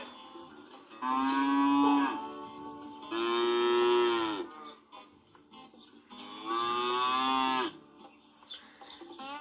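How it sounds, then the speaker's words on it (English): A cow moos three times, long, drawn-out and loud, with short pauses between each call and no talking. "This is a little cow."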